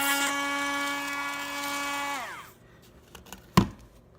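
A small electric drill whines steadily with a high tonal pitch while boring through a model railroad rail, then winds down and stops, followed by a couple of faint clicks and one sharp knock.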